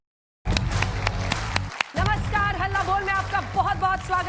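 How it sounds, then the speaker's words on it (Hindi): A studio audience at a televised Hindi news debate show applauds, a dense steady clapping wash that breaks off briefly, then resumes under music-like tones and a host's voice. "तालियों के साथ यहां मौजूद जनता का जबरदस्त स्वागत है"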